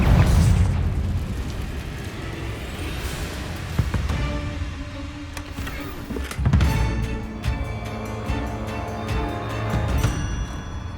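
Fiery Confringo blast spells in Hogwarts Legacy, a series of loud booming bursts over a dense rumbling game soundscape, with sharp impacts around the middle and end.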